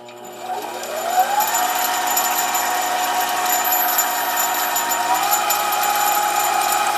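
A mini lathe with variable speed control drills a hole for a 1/4-20 thread in a small part, using cutting fluid. Its steady motor whine runs throughout with a tone that shifts in pitch as the speed changes.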